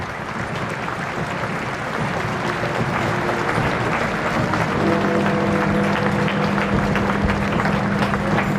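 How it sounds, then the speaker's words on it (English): Crowds lining the pavements near Parliament Square and the Palace of Westminster applaud as a funeral cortege passes, a broad, continuous wash of outdoor clapping with steady tones from passing vehicles or music emerging midway. "As the cortege approached Parliament Square and the Palace of Westminster, the applause from the pavements swelled."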